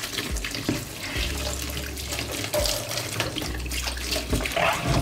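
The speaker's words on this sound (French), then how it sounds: "on renverse l'eau et je vous conseille de rincer abondamment avec l'eau froide" Beauty blender sponges rinsed under a steady stream of cold tap water, splashing continuously and fairly loud, with squeezing and gurgling shifts.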